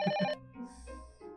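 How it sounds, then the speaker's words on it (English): A phone rings in The Silver Case, a short repeating electronic chime of bright pulses up front, then fading into quieter low tones. "Phone."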